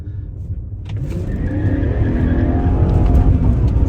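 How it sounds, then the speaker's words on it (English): A deep BMW V8 engine in a 2002 BMW 540 M Sport roars and climbs steadily in pitch as it revs, loud and close, building to a sustained growl. "Let's see how this engine sounds"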